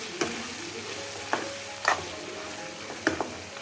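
Tomato and turmeric frying in oil in a pan, a soft steady sizzle broken by a few isolated scrapes of a spoon stirring, close and fairly quiet.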